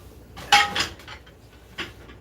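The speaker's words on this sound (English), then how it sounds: "And it's just going to go in the oven like that." A salmon dish goes into a home oven with a couple of close clattering knocks of a pan against the rack, then a softer bump a moment later.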